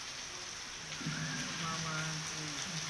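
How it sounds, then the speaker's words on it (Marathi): Heavy monsoon rain pours down in Beed, Maharashtra, a steady moderate hiss with a low voice briefly heard over it. "तर बीड जिल्ह्यामध्येही मुसळधार पाऊस सुरू आहे"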